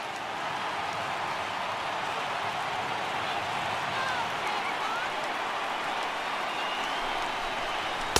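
Stadium crowd cheering and roaring in MLB The Show 18 at a Tampa Bay at Boston game, a broad steady wash of noise from tens of thousands of fans with no pauses.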